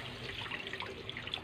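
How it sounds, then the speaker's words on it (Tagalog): Water trickles and splashes into a burger patty mixture as it is stirred, a steady close pouring and wet churning sound with no voices. "Lagay na natin yung tubig habang hinahalo-halo natin."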